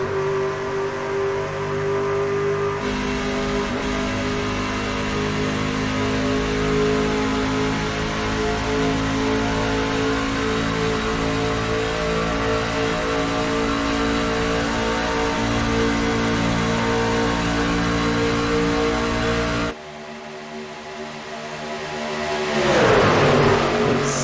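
Racing video game trucks in a league race drone loudly as they accelerate through the gears, a steady engine roar holding for about twenty seconds before dropping and then rising into a sharper, climbing whine near the end.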